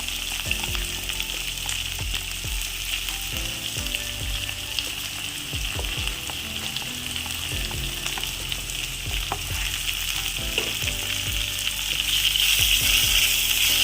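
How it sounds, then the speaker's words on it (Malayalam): Mushrooms sautéing with pepper powder in a pan for a mushroom roast, a loud, steady sizzle and frying hiss with repeated stirring scrapes throughout, no speech. "ഇട്ട് നമുക്ക് വഴറ്റിയെടുക്കാം ഈ കുരുമുളക് പൊടിയും കഴിഞ്ഞത് ചേർക്കാം"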